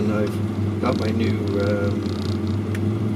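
A 1983 VW Rabbit GTI engine idles at 1,000 RPM, a steady low hum with a clear tonal drone that runs under someone talking.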